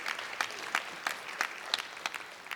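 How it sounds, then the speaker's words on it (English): Sparse, scattered handclaps from a small audience at an awards ceremony, individual claps landing in a loose irregular rhythm and fairly quiet. "Can we clap it up for that?"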